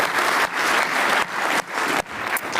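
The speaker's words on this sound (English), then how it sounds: "Give her a warm round of applause." A warm round of applause from a conference audience at a cybersecurity event in Amsterdam, dense clapping from a crowd with a few brief dips, sustained and fairly close throughout.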